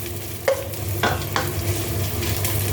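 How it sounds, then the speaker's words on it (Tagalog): Ginger sautéing in a pan at the start of cooking ginataang lanka, a steady close sizzle with a few sharp clicks of stirring against the pan, no voices. "igisa natin ang luya."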